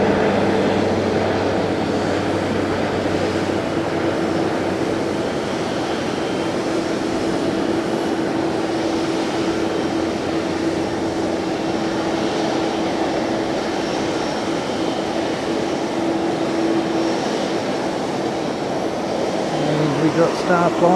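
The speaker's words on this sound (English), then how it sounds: "We've got Star Flyer coming in, here he comes, rocketing down the taxiway" A Star Flyer airliner taxiing at Fukuoka Airport, its engines a steady broad roar that holds level throughout, with someone talking over it.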